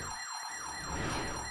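Alarm siren wailing in the VR game Incredibox Sprunki: a rising-and-falling electronic siren cycling about four times per second, loud and steady over a constant high hum, with no talking.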